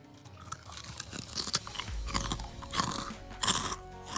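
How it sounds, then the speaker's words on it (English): Close-up crunching as crisp dried vegetable chips are bitten and chewed, irregular crackly bites repeating over a few seconds, no talking. "Listen to that crunch."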